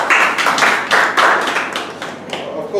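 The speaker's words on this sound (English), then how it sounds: "So you deserve a good round of applause" Clapping breaks out at a meeting as a speaker is applauded, a close, loud patter of a small group's hands in uneven bursts lasting under three seconds.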